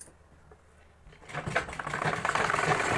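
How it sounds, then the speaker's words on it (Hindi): Sewing machine running a seam on a salwar belt, starting with a few faint clicks, then building into a loud, rapid, steady stitching rattle close by. "हम दूसरे वाले आसन पर भी इसी तरीके की सिलाई लगा देंगे"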